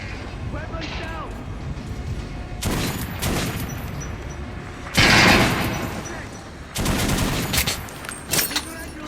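Bursts of gunfire from the video game Metro Last Light, several loud volleys of rapid shots separated by quieter stretches, with voices shouting commands in the background.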